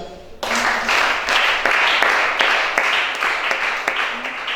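Church congregation at a Gabonese worship service applauding together, a dense steady wash of clapping hands that swells in quick pulses for several seconds, loud and close.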